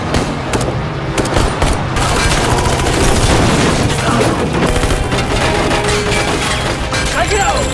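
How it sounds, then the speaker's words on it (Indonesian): A film scene of gunfire erupting as shipping containers are unloaded onto a truck, with loud, dense bursts of rapid shots that continue almost without a break. "tiba-tiba saja banyak tembakan menghujani mereka"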